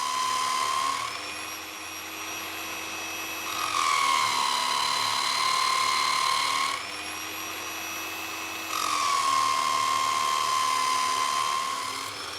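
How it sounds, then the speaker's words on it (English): Motor of a Nirey KE-series sharpening machine runs under load against an abrasive, a loud, steady high-pitched whine that shifts slightly in pitch as pressure is applied and eased in alternating stretches. "Listen to the noise of the motor. it is clearly under load but not slowing its rotation speed."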